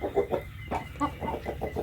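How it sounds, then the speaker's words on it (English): Chickens in a chicken coop cluck steadily in short, close, overlapping bursts, with no talking. "Now we're in the chicken coop."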